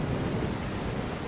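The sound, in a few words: rain falling, with thunder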